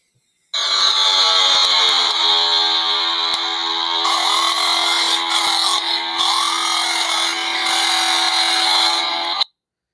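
The distorted, metallic opening vocal of a song: a loud, sustained, buzzing robotic drone that warbles and shifts in pitch for about nine seconds, playing alone after a brief silence.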